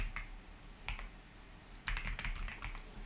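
Keys clatter on a computer keyboard in short, separate bursts of typing with quiet pauses between them. The clacking is close and fairly soft.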